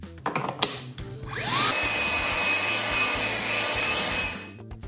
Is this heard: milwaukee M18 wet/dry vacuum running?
yes